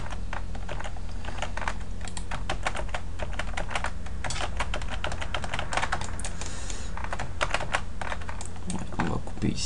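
Computer keyboard keys clatter in a steady run of rapid, close taps and short bursts over a constant low hum, with a voice speaking faintly in the background.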